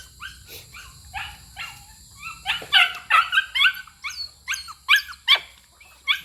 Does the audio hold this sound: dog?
yes